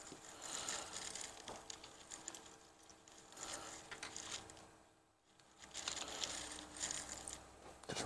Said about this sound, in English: Just rolling the clutch basket around, feel what this bottom end feels like.